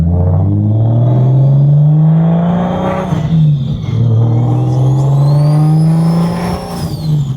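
A single-turbo BMW 335i N54 engine revs loudly and close, rising and falling in pitch through several pulls with a steady roaring drone and a high whine on top.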